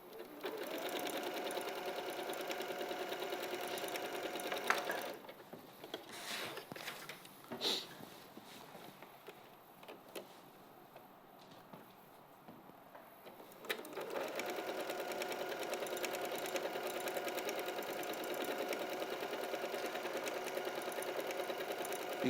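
A sewing machine runs in long steady whirring stretches, stops for several seconds of quieter room sound with light movement, then starts up again and runs continuously.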